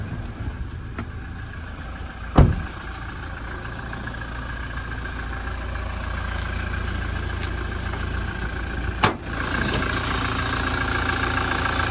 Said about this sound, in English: we will have a look underneath the bonnet while she's still running for you